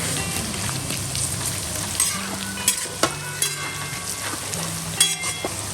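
Onion and green chillies frying in a pan, a dense continuous sizzle with scattered sharp crackles and pops, close and steady, no voices.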